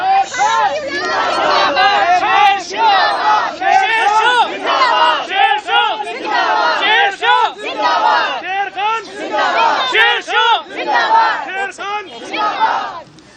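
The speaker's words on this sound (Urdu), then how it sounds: "یہ بس میں شیرشاہ کو لے کے جا رہے تھے اس لیے یہ نعرے لگا رہے ہیں" A crowd of political supporters chants slogans in unison during a confrontation around a vehicle at an arrest, loud and rhythmic with repeated shouted phrases rising and falling close by.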